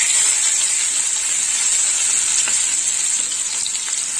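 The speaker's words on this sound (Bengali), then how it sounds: "এবার দিয়ে দেবো কুচিয়ে রাখা পেঁয়াজ" Chopped onion dropped into hot oil after tempering spices on a high flame, giving a loud, steady, close sizzle with soft stirring scrapes and no talk.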